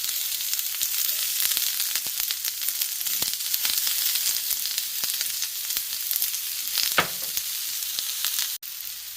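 Chopped onions frying in a pan with a steady, bright, close sizzle that holds throughout, broken by occasional crackles and a brief stir near the end.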